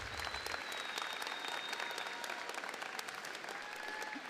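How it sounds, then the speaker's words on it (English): Audience at a high school graduation ceremony applauding honored graduates, a continuous crowd of clapping hands filling the hall at moderate distance. "Please join me in another round of applause for our honored graduates."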